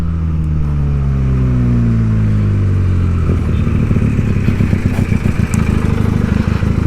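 Benelli TNT 300 motorcycle riding in third gear, the engine's steady loud drone dipping then climbing again under acceleration, recorded close with wind rumble and no voices.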